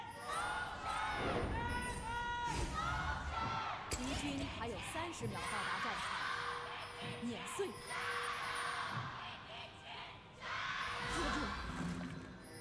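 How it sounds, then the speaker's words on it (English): A large crowd of fans at an LPL League of Legends esports match cheers and roars loudly throughout, with a caster talking over the constant noise and brief swells of yelling. "You can hear the fans are cheering so very loud for this as SOFM, looking for Ray, has found him."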